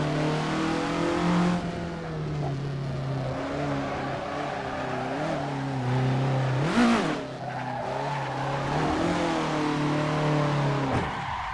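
Racing video game car engine revving and dropping through downshifts with quick throttle blips, a steady loud engine drone with rising and falling pitch sweeps and a brief tire squeal, no talking.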